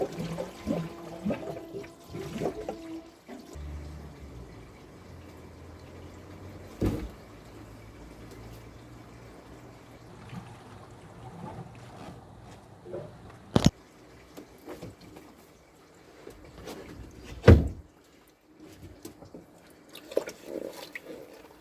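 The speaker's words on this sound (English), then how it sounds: "this is one of the drain valves at the bottom of the two bays you're watching me clean at the moment" Water draining through a bottom drain valve in a koi pond filter bay during cleaning, a quiet low gurgling rush with occasional drips, knocks and sharp clicks.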